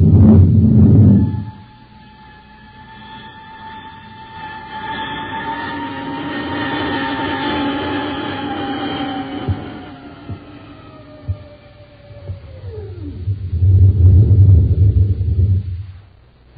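A science-fiction spaceship comes in to land, with a low roar and rumble under sustained whining tones that slide steadily downward before a heavy rumble swells back up at the end.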